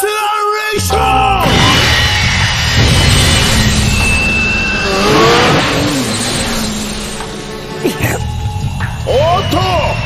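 D-wheel motorcycles from a Yu-Gi-Oh 5D's riding duel rev and accelerate loudly with rising engine whines, mixed with shouting voices and excited yelling throughout.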